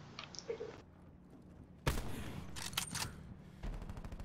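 Gunfire in Call of Duty Black Ops 4 Blackout, heard as a sudden loud burst of rapid shots followed by scattered cracks and clatter, fairly close in the game mix.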